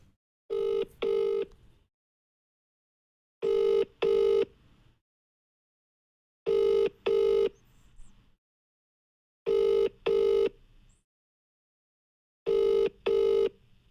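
A phone call rings out unanswered, a clean electronic double-ring tone repeating five times at steady intervals with silence between, close and clear with no voices.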